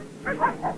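Several short yips and barks from wildlife rangers' dogs during the capture of a young Siberian tiger in Russia, moderately loud and close, in quick succession over a faint outdoor background.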